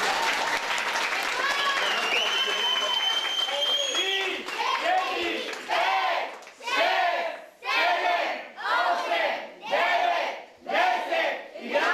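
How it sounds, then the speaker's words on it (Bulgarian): Applause and cheering from a crowd at a graduation ball, starting as a dense, loud burst and then breaking into rhythmic waves of clapping and shouts, with voices mixed in. "Аде едни малки аплодисменти."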